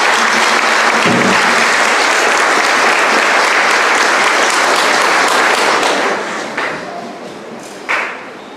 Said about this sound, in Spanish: Y muchas gracias a Monseñor con un fuerte aplauso.